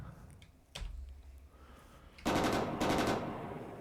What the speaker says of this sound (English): So we can fire our bow machine gun